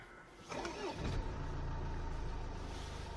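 A diesel 2018 imported sedan starts up with a short crank and catch, then settles into a quiet, smooth idle heard from inside the cabin, fairly soft and without voices.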